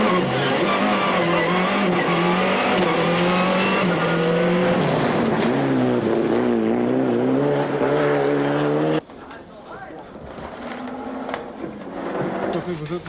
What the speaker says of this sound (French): le jeune pilote belge se fait piéger dans les sous-bois sur un gros freinage. La Corolla va sortir de la route.